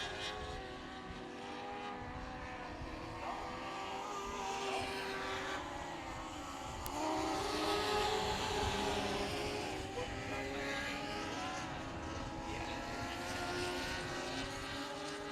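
Dwarf race cars lap a South Texas speedway during a Dwarf Car Racing Series main event, their engines droning from a distance and swelling and fading as the pack passes, with a layered, buzzing whine.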